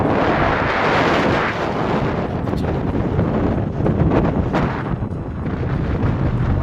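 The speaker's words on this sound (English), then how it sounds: "because it is so windy" Strong wind atop Arthur's Seat in Edinburgh roars against the microphone throughout, loud low rumbling gusts that surge and ease without pause.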